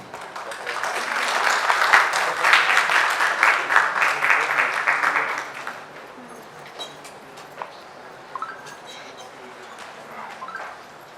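Audience applause at a Founder's Day award ceremony for an award winner swells over the first half then fades out, followed by quieter room noise with scattered small sounds.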